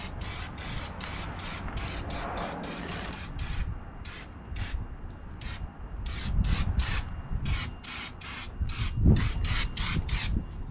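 Rust-Oleum Turbo spray paint applied to the sides of a DIY dump trailer: repeated short hissing bursts from the can in an uneven rhythm, close and fairly quiet, with some scuffing handling noise between bursts.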